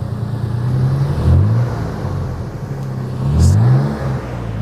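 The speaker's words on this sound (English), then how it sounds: "Let me hear it rev." A 2022 Toyota 4Runner fitted with a Flowmaster exhaust, revved twice from idle, each rev rising in pitch and then falling back to a deep rumbling idle, loud and close, with no voices.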